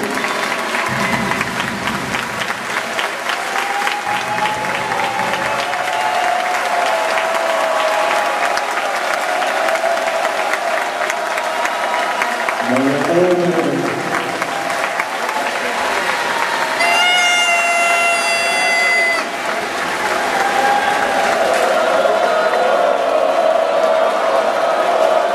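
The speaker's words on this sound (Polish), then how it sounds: "Raz jeszcze brawa dla wicemistrzów Polski" Hall audience at a women's volleyball championship ceremony applauding the national vice-champions, long continuous clapping with scattered cheers and whoops, a brief announcer-like voice and a sharp whistle-like squeal partway through.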